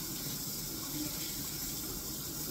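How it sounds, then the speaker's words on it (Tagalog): Water runs from a tap in a steady, continuous hissing stream at close range. The flow is even and unbroken, with no talking over it. "Saan kayo napupunta yung tubig nito, babe?"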